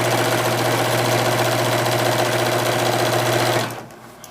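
Sewing machine stitching binding onto a quilt, a steady loud motor whir with rapid needle chatter running continuously, then winding down and stopping near the end.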